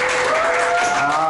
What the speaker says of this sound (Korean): 생각보다 박수 소리가 너무 작았어요.